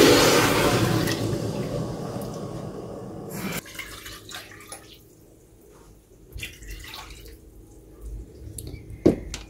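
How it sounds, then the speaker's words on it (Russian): Water pouring from a tap into a pot of washed potatoes, a loud rushing stream at first that stops abruptly, followed by quieter drips, clinks and handling sounds nearby. "Водички нужно добавлять 2 пальчика от края."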